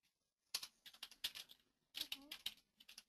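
Typing on a computer keyboard: fast, close, crisp key clicks in two bursts, with a short pause after a single opening tap.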